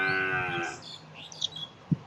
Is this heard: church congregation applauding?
no